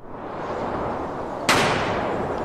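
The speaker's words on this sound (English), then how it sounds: "Firecracker." A single firecracker blast goes off sharply midway through, a loud broadband crack that decays into a noisy rumbling tail over steady background noise.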